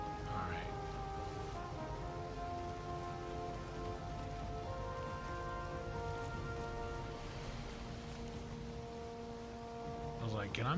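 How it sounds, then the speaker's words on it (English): Steady rain falls across a swamp in the video game Valheim, a continuous dense patter of drops that holds through the whole stretch alongside droning musical tones, with a brief swell near the end. "it's always raining in the swamp"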